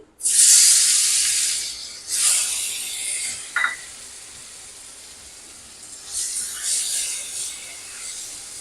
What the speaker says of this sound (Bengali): হালকা ভেজে নেব।